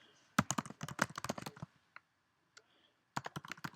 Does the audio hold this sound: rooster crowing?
no